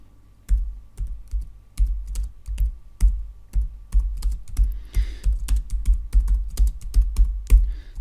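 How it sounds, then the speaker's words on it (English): A title is typed on a computer keyboard in Photoshop: steady, close clacking keystrokes in quick irregular bursts, moderately loud, with no talking. "then I'm going to click in the image somewhere here, and then I'll type in a title"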